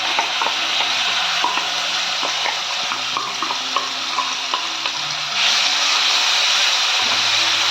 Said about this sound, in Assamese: এতিয়া মই যে ইয়াতে পেষ্ট কৰি থৈছিলোঁ পিঁয়াজখিনি,